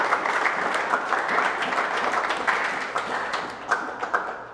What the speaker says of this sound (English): Still clapping? Long clap?